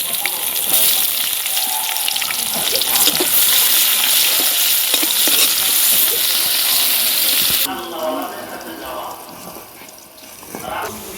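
Chopped onions fry in a wok with a bright, loud sizzle and stirring scrapes, then the hiss drops to a quieter bubbling near the end.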